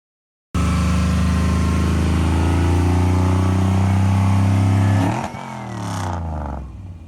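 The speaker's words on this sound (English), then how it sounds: "including Borla racing mufflers, delivering maximum performance with that classic Borla sound" A 1958 Corvette C1 restomod with a Chevy Performance LS7 V8, Hooker Shorty headers, stainless exhaust and Borla racing mufflers bursts to life and holds a loud, deep revving roar for several seconds before dropping back to a lumpy idle.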